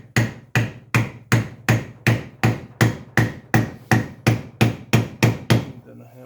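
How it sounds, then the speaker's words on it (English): A steady series of about fifteen sharp, hollow knocks, a piece of wood tapping a gearbox bearing onto a Ford 2000 tractor shaft, wood striking metal at an even rhythm, close and loud with no talking. "I first try to tap it with this piece of wood."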